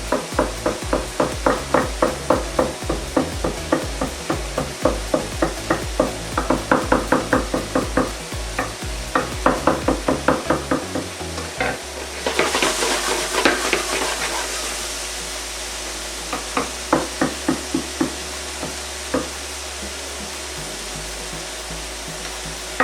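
Vegetables sizzle in a pan while being stirred in a home kitchen, with a steady frying hiss under repeated rhythmic scraping and tapping of the utensil against the pan.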